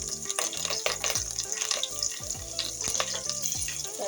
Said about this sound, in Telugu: ఇందులో ముందు మన మసాలా దినుసులు ఏవైతే ఉన్నాయో అవి వేస్తున్నాం